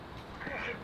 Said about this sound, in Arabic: البط